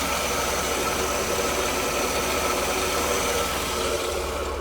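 Engine of a 1992 Mercedes W124, warmed up and idling steadily, with a constant low pulsing throb and faint rhythmic ticking, close and continuous.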